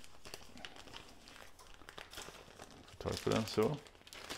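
A plastic vacuum-sealer bag for aging meat at home is folded back at the top, giving soft close crinkles that swell into a louder crumpling burst near the end, with a quiet voice speaking briefly.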